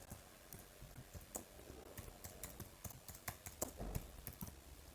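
Quick, light keystrokes click on a Mac computer keyboard in short bursts of typing, close up and fairly quiet, with no voice.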